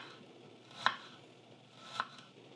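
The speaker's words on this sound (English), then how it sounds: "we're just going to slice them in really thin slices" A knife slicing peeled shallots thin on a cutting board, with two soft, separate cuts set against a quiet room hum.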